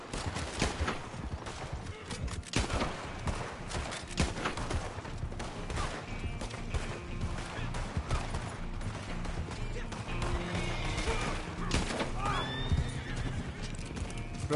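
Hooves clip-clop steadily as a horse runs in Red Dead Redemption, with loud whinnies and neighs, game-style effects and bursts of gunfire mixed in throughout.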